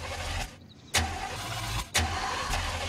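Car engine cranking and firing up at a roadside stop, a few sharp broadband bursts standing out over a steady low rumble, with no talk.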